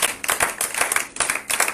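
A church congregation claps in praise during a Sunday worship service, with steady loud rhythmic clapping from many hands close by and filling the space.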